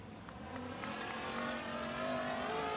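A Long Lewis Ford BMF race car with an Eagle engine accelerates on Thunderhill Raceway, its engine whining and rising in pitch at moderate distance under race commentary.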